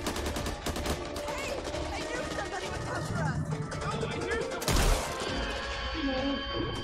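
Rapid gunfire from the video game Back 4 Blood rattles in dense bursts through the whole stretch, with a louder crash near the middle, heard beneath speech babble.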